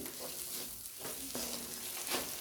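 Stuffed karela filling being stirred in a hot pan, a steady broadband sizzle with repeated scraping strokes of the spoon, close and continuous with no talk.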